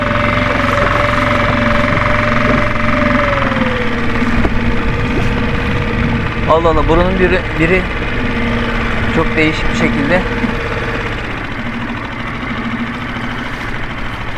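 A sailboat engine idles steadily and close by, a low continuous mechanical drone with a faint whine, while someone talks over it throughout.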